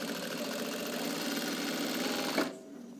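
A sewing machine stitching a shirt runs in a continuous, fast, rattling hum for over two seconds, then stops abruptly, with no speech over it.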